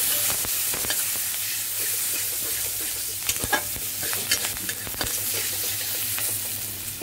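Garlic and curry leaves frying in hot tempering oil for thuthuvalai rasam, a loud, close, steady sizzle with intermittent stirring scrapes and crackles, no voices.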